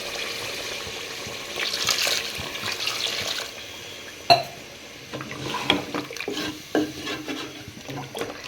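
Water pours and splashes into a sizzling pan of frying aloo chicken curry, followed by stirring and scraping of a spoon against the pot, with clinks scattered throughout.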